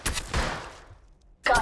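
Gunfire from the Apex Legends Mobile battle royale game: a loud, dense burst of rapid shots for about the first half second, a fading tail, then another sharp burst at the very end.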